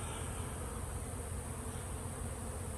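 A dense, continuous drone of many honeybees buzzing together around a hive, steady and close, with no voices.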